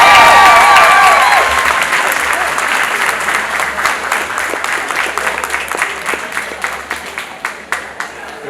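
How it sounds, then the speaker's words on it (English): An adult education graduation audience breaks into applause for the graduates, loud and dense at first, then thinning to scattered claps as it fades over several seconds. "can you give our graduates a round of applause?"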